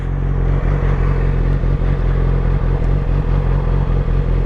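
Steady, loud engine drone of a Yamaha R6 sport motorcycle heard while riding along a road, with constant wind rush and a low throbbing note that holds evenly throughout with no talking.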